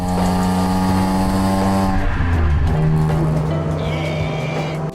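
A BMW E46 M3 engine pulls hard along country roads in the Cotswolds, a loud, sustained harmonic howl that shifts pitch as the car changes gear and accelerates.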